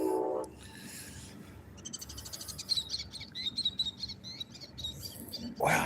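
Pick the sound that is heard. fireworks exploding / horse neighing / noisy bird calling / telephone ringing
noisy bird calling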